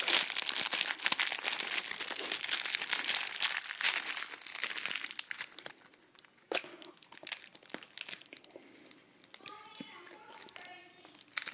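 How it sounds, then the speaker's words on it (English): Plastic wrapping crinkled, crushed and torn off Sara Lee Golden Fudge Cakes and Devil's Food Creme Cakes, a dense rustling burst up close for about five seconds, then sparser crackles and tugs fading quieter. "This packaging just doesn't want to come off."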